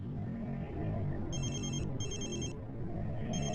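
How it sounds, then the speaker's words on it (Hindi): A phone rings in repeated electronic bursts over a steady, busy background rumble. "12 बजे अंतरा के फोन पर रुद्र का कॉल आया।"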